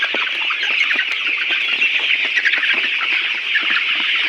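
Many layer pullet chickens cluck and chatter together continuously on a poultry farm, a dense, steady flock sound close by with no talking.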